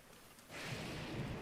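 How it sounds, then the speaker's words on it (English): Rain rising into a steady wash after a quieter start, with faint low rumbling beneath; soft and continuous, no one speaking. "What is this game's passion for it to rain?"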